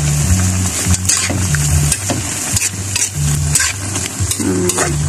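Vegetables with okra stirred in a sizzling pan, a spatula scraping and clinking through the hot sauté in repeated close strokes over a steady frying hiss.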